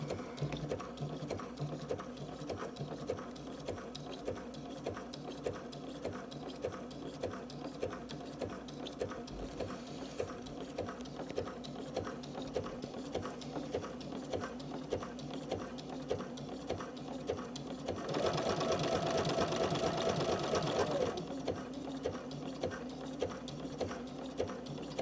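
A sewing machine stitches paraglider line at a sewing jig, running in a steady close rhythm of rapid needle strokes that grows briefly louder and faster near the end, with no talk.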